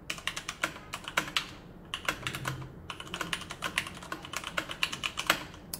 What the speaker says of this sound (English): I'm gonna do a quick typing test for you guys